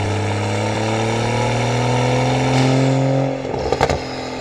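BMW B58 inline-six pulling steadily under load while driving, a loud sustained engine drone that lets off near the end with a few crackles, no voices.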